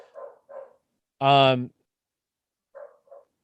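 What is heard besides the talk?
dog barking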